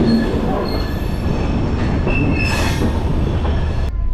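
A train on the Chenab Bridge route in India rumbles steadily, loud and close from inside, with rolling wheel noise and high squeals of wheels on rail, without talking.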